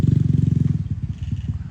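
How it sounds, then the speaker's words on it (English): A noisy motorbike passes close by, its engine putting out a rapid, throbbing low pulse that fades slightly as it moves away, heard alone for under two seconds. "this motorbike are very noisy"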